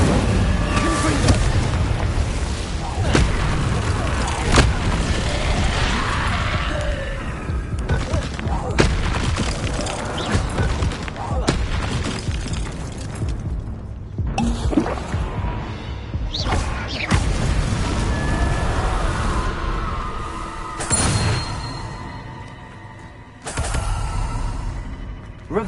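Confringo blasting spells in the video game Hogwarts Legacy, repeated loud booming explosions and sharp impacts bursting at irregular intervals over a rumbling battle mix, with a voice heard at times.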